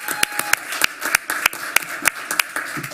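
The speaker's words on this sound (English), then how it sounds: "that applause was for you" Sparse, uneven claps from a small audience at a commission meeting, individual hand claps standing out at irregular intervals rather than a full ovation, fairly close.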